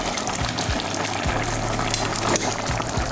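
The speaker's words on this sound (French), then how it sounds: "Je laisse mijoter quelques minutes." A pot of thick smoked chicken sauce with spinach and powdered okra simmers close up, giving a constant dense bubbling and sputtering hiss with a few small pops, no voices.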